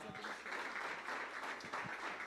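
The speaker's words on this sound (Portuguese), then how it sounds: "Aplauda Jesus." Congregation applauding in a church service, a soft, distant wash of clapping that continues evenly throughout.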